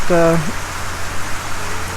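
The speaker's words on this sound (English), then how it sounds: "I wanted to be out here with the rain and the weather" Rain and wind lash down during a hurricane, a steady broadband hiss running through the whole stretch, with a brief voice speaking at the very start.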